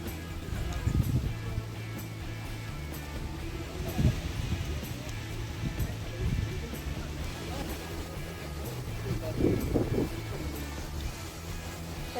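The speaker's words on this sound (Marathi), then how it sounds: "पाऊस पडायला लागला इथे आणि वारं भरपूर असल्यामुळे थंडी जास्त वाजायला लागली" Gusty wind buffets the microphone outdoors as rain begins, with a constant rushing noise, some low thumps, and a voice speaking faintly beneath it.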